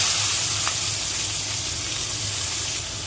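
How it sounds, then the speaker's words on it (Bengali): Giant freshwater prawns sizzle in hot mustard oil in a wok, a continuous close hiss over a low steady hum that eases slightly toward the end, with no one talking. "তেলটা একটু গরম হলেই আমি মাছগুলো সামান্য ভেজে নেব"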